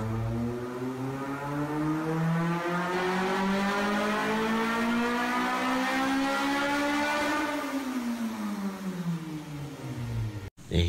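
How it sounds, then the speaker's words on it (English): Honda racing engine winds up in pitch for several seconds, then drops and settles, a loud continuous roar with strong harmonic whine and no speech. "Oh, listen to that engine."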